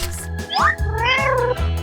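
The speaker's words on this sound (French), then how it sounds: "Oh non, mon chat." A cat meows in a long, rising and falling cry, loud and close, with a short lower mew just before it and no talk over it.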